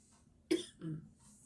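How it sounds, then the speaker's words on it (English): A single quiet cough, a sharp burst followed by a softer second push, in an otherwise quiet room. "me coughing like that"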